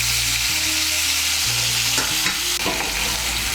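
Marinated prawns frying lightly in hot oil in a pan: a loud, steady close-up sizzle with some bubbling and stirring clatter toward the end, and a low hum beneath. No one speaks.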